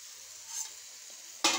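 Raw plantain frying in oil makes a quiet, steady sizzle in a home kitchen, ending in a sudden loud burst as the pan is stirred.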